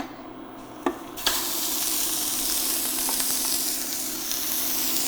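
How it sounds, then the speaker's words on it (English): Ground meat hits a hot oiled pan with a sharp burst and then sizzles steadily and loudly, a broad frying hiss for a sloppy joe filling with a few faint stirs and scrapes, no talking. "we're going to let this sear for just a minute or two till it browns on the bottom side"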